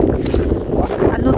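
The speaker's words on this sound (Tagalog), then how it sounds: "Grabe ang hangin." Strong wind roars and buffets the microphone in snowy, freezing weather in Germany, a continuous low rumble with no break.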